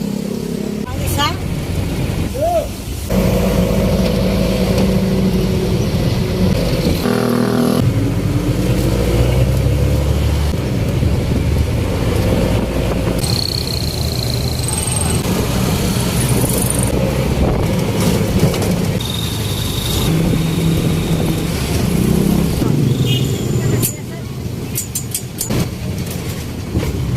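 Riding a bus on a road near Toledo, a continuous engine drone and road rumble with shifts in pitch as it accelerates, while passengers talk throughout.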